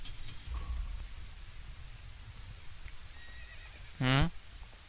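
A horse in the video game Legend of Zelda: Ocarina of Time gives one loud, clear neigh near the end, over a soft, steady hiss of rain.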